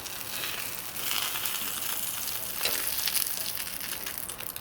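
Close, steady sizzling and crackling of köfte meatballs frying in a hot pan, a dense frying hiss with slight swells, no voices.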